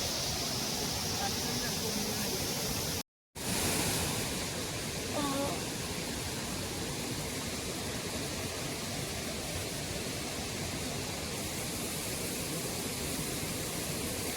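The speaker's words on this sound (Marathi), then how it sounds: "तर इथं पाण्याचा फ्लो पण बघू शकता" Flowing river water in the Konkan countryside, high after heavy rain and spilling over a small waterfall, a loud continuous broadband rush close by that runs the whole time with only a brief cut.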